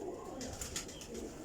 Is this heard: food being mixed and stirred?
no